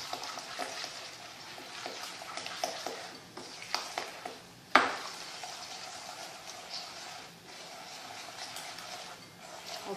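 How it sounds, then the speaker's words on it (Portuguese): A spoon stirs a batter with a pinch of salt until it turns into a white cream, making repeated soft scraping strokes in an uneven rhythm. One sharp knock against the bowl sounds midway. "Aí vamos mexer muito bem"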